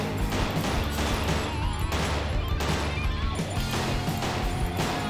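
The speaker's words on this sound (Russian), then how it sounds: "О, теперь мы стреляем, отлично." Dense gunfire in a horror shooter game, rapid cracks and smashing impacts layered over loud, busy game audio that runs unbroken from start to finish.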